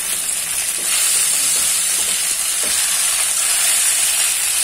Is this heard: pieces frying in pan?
yes